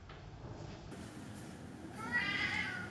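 A pet cat meows at a door to be let in, one faint drawn-out meow near the end after a quiet stretch of soft room noise.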